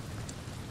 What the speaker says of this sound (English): We have to factor that it's raining.